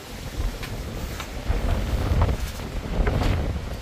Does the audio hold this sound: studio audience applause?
no